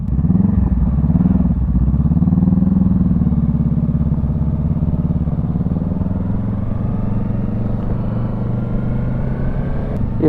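A Yamaha YZF-R3 motorcycle engine runs loud and steady, its low throaty rumble rising slightly as the bike pulls away and continuing without break.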